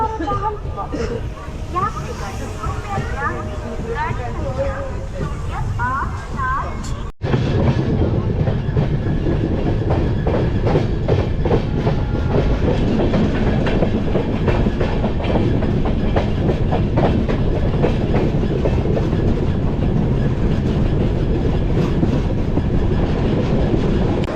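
A passenger train bound for Puri runs along with steady clickety-clack from the wheels and a rattling carriage rumble, loud and close, while babbling voices carry through the car.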